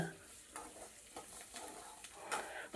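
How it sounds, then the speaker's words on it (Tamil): Drumstick leaves with asafoetida sautéed in a pan over medium heat, a faint steady sizzle with soft periodic scrapes of stirring. "நல்லா வதக்கி விடுங்க."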